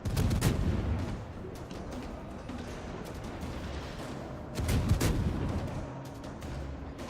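Repeated ship guns boom in a naval video game, loud thumping bursts near the start and again around five seconds, over a dense rumbling battle din with no talk.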